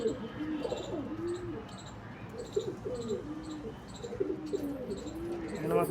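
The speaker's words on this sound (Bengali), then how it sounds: "এগুলো সব ফিমেল পায়রা আছে" Pigeons coo in a loft holding female Madras and Andhra breed birds, soft low repeated coos layered and continuous over a background with faint chirps and insect-like buzzing.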